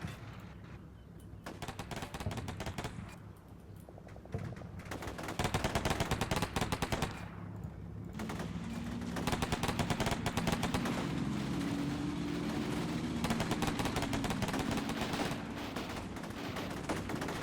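Bursts of machine gun fire crackle continuously in Combat Mission, rapid rattling volleys layered with distant gunshots and a steady battle din, loud throughout with no voices.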